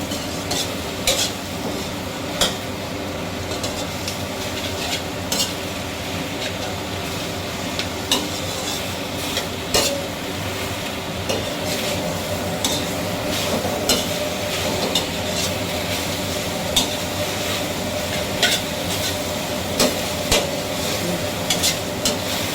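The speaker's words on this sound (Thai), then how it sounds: "แล้วก็คนไปคนมาเลยนะคะ" Grouper and gravy for rad na noodles are stirred in a hot pan, with continuous sizzling and frequent scraping clinks of a utensil against metal, close and steady with no talking.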